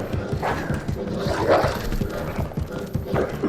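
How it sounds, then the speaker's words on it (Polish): Dogs bark in Resident Evil 2, several rough barks at irregular intervals over a low, rumbling game ambience. "O, psy są."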